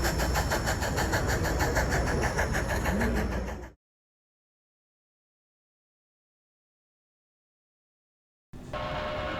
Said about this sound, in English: we see an upgraded Ken Kidder consolidation pulling a short freight on the Slim Gauge